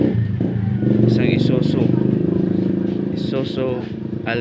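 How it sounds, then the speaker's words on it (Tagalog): A 2005 Isuzu Altera's diesel engine idles roughly with a misfire, its low pulsing chug shaking unevenly and steadily, while someone talks close by. "mausok daw tsaka palyado. Tsaka nanginginig yung makina."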